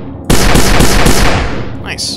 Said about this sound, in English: And then these are the mini cannons.